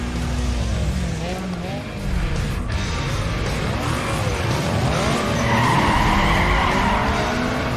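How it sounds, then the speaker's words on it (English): Race car tires squeal and skid in the Need for Speed Underground 2 video game, long sweeping screeches rising and falling over a loud engine roar for several seconds. "Let's do a race."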